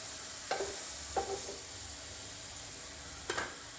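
Green chilli, garlic and cumin paste sautéing in a pan for methi parathas: a steady soft sizzle with three short scraping stirs, close and fairly quiet, no voices.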